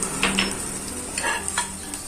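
Turmeric, cumin and green chillies sizzle in hot refined oil while being stirred, a steady close frying hiss with a few scraping stirs of a spoon in the pan.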